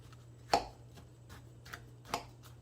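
A knife taps and drags through a pecan topping over a peach crisp in a bourbon peach cobbler, giving a few sparse, quiet clicks and two sharper knocks in a still kitchen.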